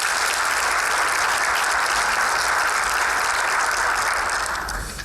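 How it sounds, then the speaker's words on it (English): A keynote speaker is welcomed with loud, sustained audience applause, a steady dense roar of clapping that holds evenly before tapering off at the end, with no talking over it. "Please clap your hands together for Greet de Keyzer."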